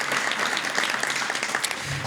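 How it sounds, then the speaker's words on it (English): Steady applause from a crowd, continuous clapping at moderate volume that holds evenly throughout. "Can we please give them a round of applause"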